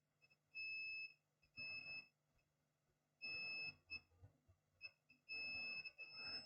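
Multimeter probe on a laptop motherboard beeps for continuity to ground, giving several short shrill electronic tones in quick bursts, separated by brief pauses.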